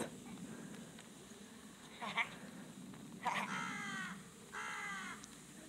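Crows caw in a few drawn-out, raspy bursts, fairly distant against quiet outdoor background noise on a snowy sledding hill.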